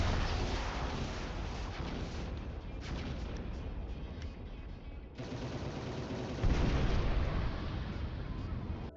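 Artillery and kinetic gun fire during a space fleet battle in the Final Theory video game, a continuous dense rumble of blasts and rapid shots, steady throughout and swelling louder near the end.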